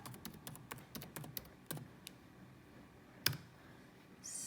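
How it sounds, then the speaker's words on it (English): Quick, light clicks of typing on a computer keyboard come in a soft burst of keystrokes, then space out into a few isolated taps, faint and close in a quiet room. "type in Triathlon Victoria"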